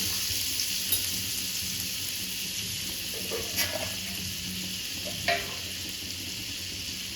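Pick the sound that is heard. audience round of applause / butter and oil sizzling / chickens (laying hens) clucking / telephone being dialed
butter and oil sizzling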